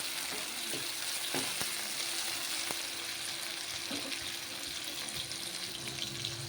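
Small diced tomatoes fry in oil for chicken masala curry, giving a continuous moderate sizzle with occasional soft ladle taps, no voices present.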